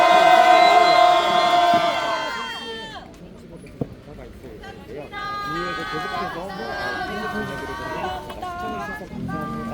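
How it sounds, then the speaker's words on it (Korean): Rally participants at a student-release press conference outside the Seoul Western District Court let out loud shouted cheers, which fade and then rise again as a chattering, cheering crowd with voices mixed in. "참가자 여러분들의 힘 함성과 박수로 마무리하도록 하겠습니다"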